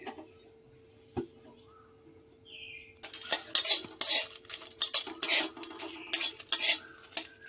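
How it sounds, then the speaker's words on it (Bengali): Whole dried red chillies dry-roasting in a hot wok, starting almost silent with one clink, then a run of loud metallic scrapes and rattles as they are stirred around, over a faint sizzle. "প্রথমে লঙ্কাগুলো কড়াইয়ের মধ্যে দিয়ে দিচ্ছি কড়াইটা গরম হয়ে গেছে"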